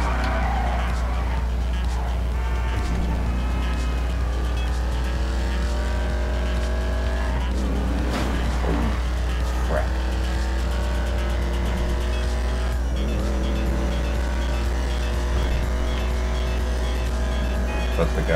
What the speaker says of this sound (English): I'm supposed to drift this wrong way.